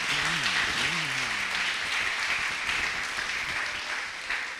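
A church congregation applauds loudly and continuously, a dense wash of clapping that holds steady before easing slightly, with a brief spoken or sung phrase at the start.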